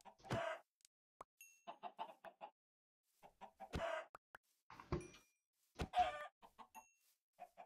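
Chickens in a video game cluck in scattered short bursts, close by, with brief gaps of quiet between calls and no talking.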